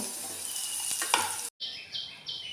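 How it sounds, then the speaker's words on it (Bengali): Potatoes fry in hot mustard oil for a Bengali shukto, a steady hissing sizzle with a brief stir, a short cut, then softer sizzling with a faint high tone. "আমি দিয়ে দিয়েছি আলু, আলুটা আমি ভালো করে ভেজে নেব"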